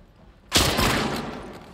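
A single loud gunshot blast from The Last of Us Part II rings out close and sharp, its broad burst trailing off into a decaying echo over a second or so, with no talk over it.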